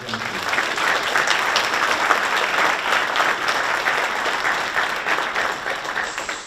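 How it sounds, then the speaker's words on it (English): Sustained applause from a symposium audience, dense and steady for the whole stretch, fairly close and even in loudness, tapering slightly at the end, with no talking over it. "one more round of applause for Jenny."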